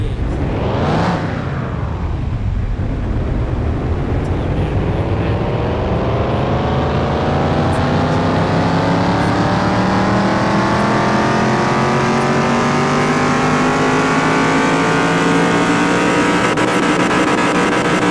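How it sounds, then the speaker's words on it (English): A V8 car engine in a car-repair video game revs and accelerates continuously, its loud droning pitch rising in long sweeping climbs through the gears, steady and close, with no voices. "Now we're gonna find out how fast this car"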